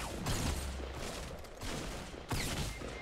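Gunfire in Fortnite, bursts of rapid shots coming in a few loud volleys with brief gaps between them, fairly close and dense.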